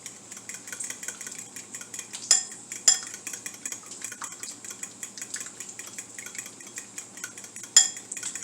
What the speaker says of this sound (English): go ahead and mix your eggs completely